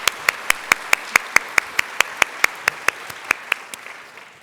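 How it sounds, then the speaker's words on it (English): An awards-ceremony audience honoring five-year staff service recipients claps in a steady, rhythmic beat, sharp regular claps ringing out clearly over a softer bed of scattered applause. "Audience, please help us giving one more round of applause to all of the 5-year award recipients."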